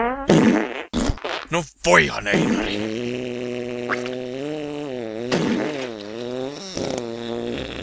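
Fart sound effects in a Finnish-dubbed cartoon, a burst of short blasts at the start followed by a long wavering, buzzy tone, with dubbed voices talking over and between them.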